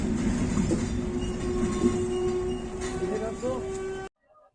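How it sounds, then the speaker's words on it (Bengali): The Nilsagar Express passenger train at Tangail railway station gives off a steady, loud rumble with a low hum and faint metallic tones, muffled voices underneath, before the sound cuts off abruptly. "এখন নীলসাগর এক্সপ্রেস দাঁড়াই আছে হচ্ছে টাঙ্গাইল রেলওয়ে স্টেশনে"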